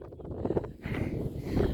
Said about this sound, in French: Je sais pas si vous allez pouvoir m'entendre parce qu'il y a beaucoup de vent